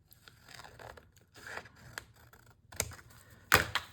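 Scissors trimming the edge of a paper junk-mail envelope, heard as a few short snips and papery scrapes with gaps between them, ending in a louder crisp cut, close and without talk.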